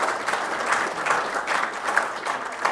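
Audience applause at a juried art competition, a steady, fairly close patter of many hands clapping that swells and eases slightly without pause.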